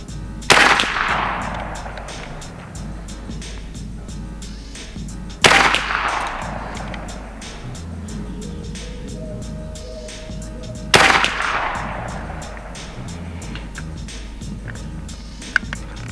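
A precision airgun fires pellets three times, roughly five seconds apart. Each shot is a sharp, loud crack with a short ringing decay, and a faint steady background hum runs between shots.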